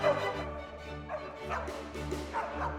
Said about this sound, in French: Ces chiens sont des chanteurs, écoutez.